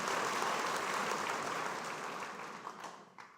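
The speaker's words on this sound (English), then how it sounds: "So round of applause for Mr. Mickey Martin." An audience at a school debate in Wabag, Enga, claps steadily for an adjudicator, a soft, dense patter of many hands that gradually fades over a few seconds.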